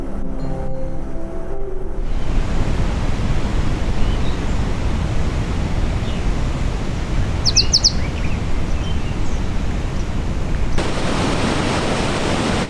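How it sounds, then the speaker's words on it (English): Augrabies Falls on the Orange River in strong flow roars as a loud, steady broadband rush of falling water, with a few faint bird chirps above it. "Khoisan natives call the Augrabies Falls the place of loud noise."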